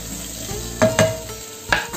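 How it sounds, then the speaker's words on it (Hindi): Green chillies and curry leaves fry in oil over a low gas flame, a constant close sizzle broken by three sharp spatters or utensil knocks, with no talk. "इसको एक बार फ्राई कर लेंगे, गैस की फ्लेम धीमी रखेंगे और फिर इसमें डालेंगे थोड़े से करी पत्ते"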